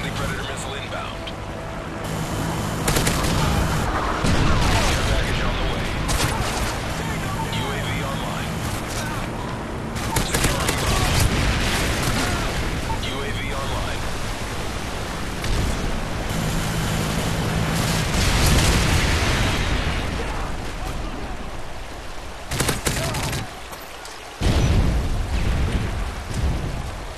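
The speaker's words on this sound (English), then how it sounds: "Friendly Predator missile inbound." Predator missile strikes and gunfire in Call of Duty MW3 multiplayer Domination on the Gulch map, repeated heavy booms and rattling shots spread through the match, mixed with in-game radio voices.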